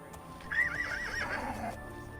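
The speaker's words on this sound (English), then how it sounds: "And I'll see if the horse can run down the mountain." A horse in the video game Oblivion gives one clear, quavering neigh over faint background hoof and game sounds.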